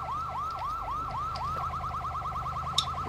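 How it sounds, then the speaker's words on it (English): Police siren from the LCPDFR video game, a loud wailing tone rising and falling in slow sweeps, then switching to a rapid yelp for the second half, with a brief sharp click near the end. "Might turn the sirens off."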